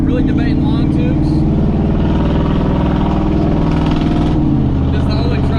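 A clapped-out pickup truck with an open, loud exhaust rumbles and revs hard and close, with a sharp drop in pitch near the end and voices heard faintly under the engine.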